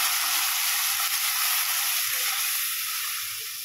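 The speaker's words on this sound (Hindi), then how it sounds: "और इसे अच्छे से हम भून लेते हैं।" Onions with garlic paste, turmeric, chili, coriander and salt fry in a pan with a little water, giving a steady close sizzle and hiss that eases slightly toward the end, with no talking.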